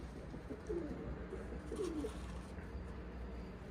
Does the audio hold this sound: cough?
no